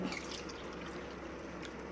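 Water pours into a glass of mint ginger squash over ice cubes, a steady quiet trickle and splash of liquid running for a couple of seconds, close by and alone.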